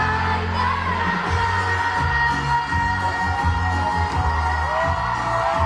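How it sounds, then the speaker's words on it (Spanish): A concert crowd screams and whoops continuously at a live performance, loud and dense, with a sung melody and music running underneath throughout. "Ay, la gente gritando."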